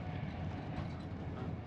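Avanti West Coast Class 390 Pendolino tilting train running at about 125 mph, heard from inside the carriage as a steady, broad rumble and rushing noise with no break.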